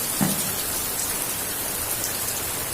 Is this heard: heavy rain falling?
yes